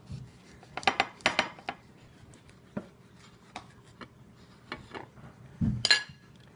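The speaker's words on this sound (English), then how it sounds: "a serrated knife to cut your lemons" Lemons are cut with a serrated knife, giving scattered close clicks and scrapes of the blade against a board, clustered early on and then sparser, ending in a soft thud and a clink.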